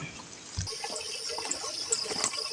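Water splashing and trickling onto a pile of cacao beans being soaked on a hot sunny day, a soft continuous pour with small splatters and a sudden louder splash near the start.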